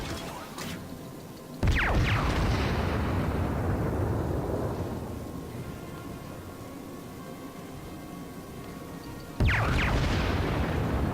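Torpedo hits in World of Warships: two heavy, booming explosions several seconds apart, each with a sharp onset and a long rumbling decay, loud and close with no talk over them.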